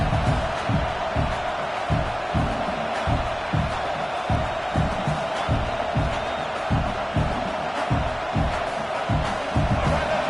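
Packed football stadium crowd at a UNC versus LSU game, a dense, continuous roar with rhythmic pounding stomps or chants pulsing beneath, loud and enveloping throughout.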